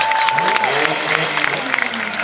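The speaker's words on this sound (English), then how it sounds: "let's give that guy a round of applause" Crowd applause at an opening-day county fair truck pull, a broad, steady wash of clapping and cheering at moderate loudness with a brief tone early on and an announcer's voice mixed in.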